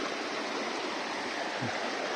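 A small mountain river along the Naches Trail rushes steadily nearby, a continuous broadband wash of flowing water with no pauses or voices.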